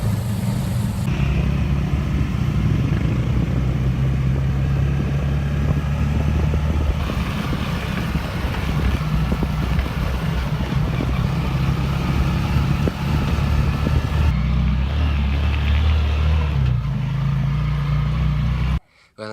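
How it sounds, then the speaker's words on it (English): Small motor car driving down a dry dirt road, a steady close engine rumble with road noise and rattles running continuously before cutting off at the end. "I jump in a motor car, and it's going to be about an hour in a little motor car to get out to Santa Lucia down the dirt road"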